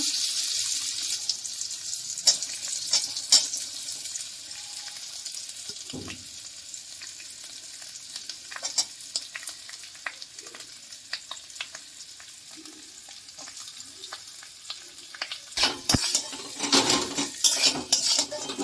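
Boiled potatoes with red chilli powder frying in a pan for aloo chop, stirred with a spatula that scrapes and clinks against the metal over a steady sizzle, with a louder clatter of utensils near the end.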